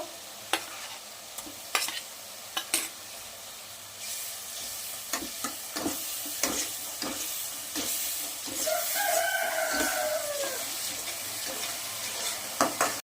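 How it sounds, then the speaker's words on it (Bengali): Ginger-garlic paste sautéing in a pan, a soft sizzle broken by several sharp scrapes and knocks of a spatula. A rooster crows faintly in the background partway through. "আমি আদা রসুন বাটা দিয়ে একটু কষিয়ে নিয়েছিলাম"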